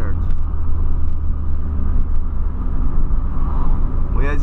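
A car engine accelerating on a road, heard as a steady, loud low rumble of traffic with a rising engine tone toward the end.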